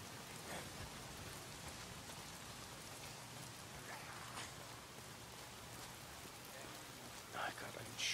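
Steady rain falls in the open-world zombie game Days Gone, a constant soft hiss of drops with faint low rumbling underneath and a few brief sharper sounds near the end.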